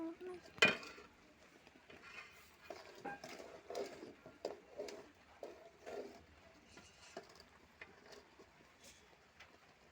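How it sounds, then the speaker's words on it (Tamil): Jaggery syrup is stirred in a pan on low heat, soft scraping and occasional metallic clinks from the spoon, with one sharp knock at the start, faint and intermittent against a quiet background. "நல்லா பாகு வர வரைக்கும் கிண்டிக்கணும்"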